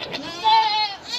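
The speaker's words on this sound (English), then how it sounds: "Just got these goats out here." A goat on a farm lets out a drawn-out, quavering bleat near the microphone, swelling in the middle before it trails off, with faint noise before and after.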